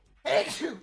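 A single sharp sneeze bursts out at close range during a tabletop role-playing game session, followed by a brief spoken reaction from the same person.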